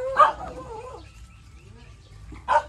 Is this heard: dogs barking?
yes